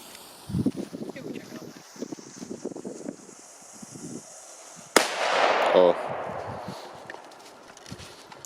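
A small 0.2-gram firecracker detonates outdoors on a flat, non-flammable surface, giving a single sharp, loud bang partway through, followed by a brief hissing, rattling tail. Someone talks at close range in the seconds before it goes off.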